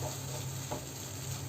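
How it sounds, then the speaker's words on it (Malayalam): Tomatoes and onions frying in a pan while being stirred to soften them, with a steady close sizzle and light scraping of the spoon, no voices. "തക്കാളി ഒന്ന് സോഫ്റ്റ് ആവുന്നത് വരെ നമുക്ക് നന്നായിട്ടൊന്ന് ഇളക്കി കൊടുക്കാം"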